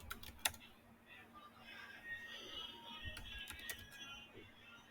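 A few quick clicks come from a computer keyboard as a spreadsheet formula is typed. They are faint and sparse, with a soft background hum and low room noise.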